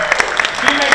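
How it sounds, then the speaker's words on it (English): Symposium audience on children's health and climate change breaking into applause, a dense patter of clapping hands close and loud for a brief moment, mixed with a voice speaking over it. "let's all give a great round of applause to Alex"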